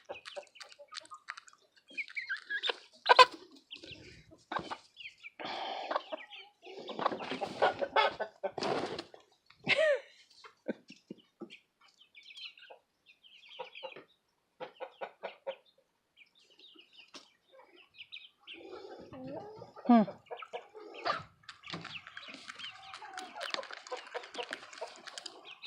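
Chickens cluck and squawk in a North Carolina snowstorm, with a person nearby imitating their clucks. Bursts of cackling and short calls come and go, close and moderately loud, separated by quiet gaps.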